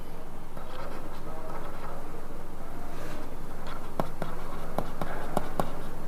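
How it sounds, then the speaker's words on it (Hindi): Marker or chalk writes on a board in soft, close scratching strokes, ending in a run of short taps and quick ticks over a low steady hum. "तो यहां पर लिखेंगे"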